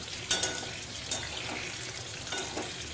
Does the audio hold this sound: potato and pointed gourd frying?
yes